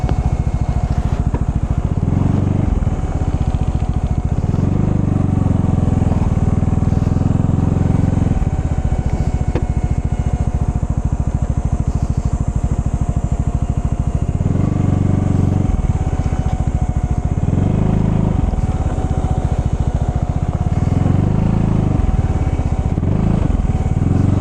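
A motorcycle engine drones steadily throughout, its low rumble swelling in a few bursts as the throttle opens, close by with no talking.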